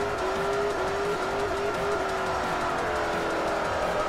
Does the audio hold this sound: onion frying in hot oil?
no